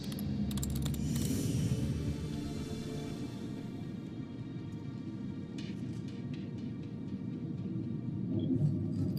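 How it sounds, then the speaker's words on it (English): Inside the video game Murdered: Soul Suspect, a character types rapidly on a computer keyboard, a quick continuous patter of clicks over a low ambient game rumble, with no voices. "Just look at his terrible typing."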